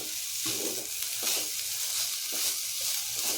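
Filling of jaggery, sugar and milk powder cooking in a pan, a soft steady sizzle with repeated scraping stir strokes at a regular pace, close and fairly quiet.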